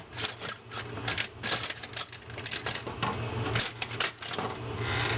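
An 11 mm wrench works the handle nut off a Shakespeare SKP 2000C round baitcaster reel, giving close, rapid ratcheting clicks in uneven bursts with small metallic clatters between them.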